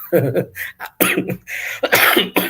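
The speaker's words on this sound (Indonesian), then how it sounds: "Maaf, sampai batuk." A person coughs several times in quick, harsh bursts close to the microphone, with short pauses between them.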